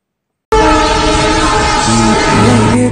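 A passing train blasts a loud, sustained horn that starts abruptly and holds steady close by, with the rumble of the rail cars running beneath it.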